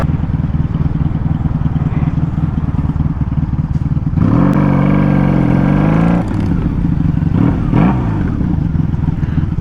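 A Honda Magna motorcycle rides through traffic with a steady loud engine drone, rising into a stronger revving surge midway before settling back to a cruising rumble.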